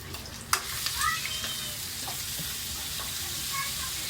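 Chayote stir-frying in a pan for ginisang sayote, a steady close hiss of frying with scattered scraping stir sounds and a sharp knock near the start.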